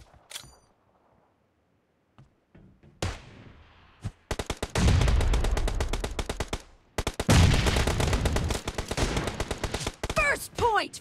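In a video game team match, rapid automatic gunfire bursts out loud and close in long rattling strings, broken by short pauses and a few metallic clinks, after a quiet start with scattered clicks and single shots.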